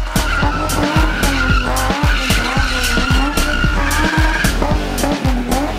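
Loud, continuous tire squeal from a BMW E30 3 Series doing wheelspin, with a revving engine pulsing underneath and the screech rising and falling throughout.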